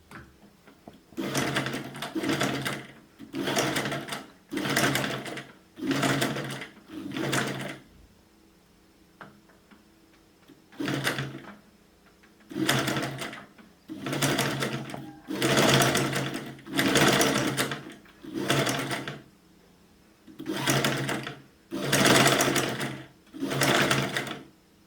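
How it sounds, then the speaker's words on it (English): A sewing machine stitches a seam in repeated short bursts, a fast mechanical rattle starting and stopping about a dozen times, close and clear, with brief quiet pauses between runs. "Stitch back to reinforce the beginning of stitchery."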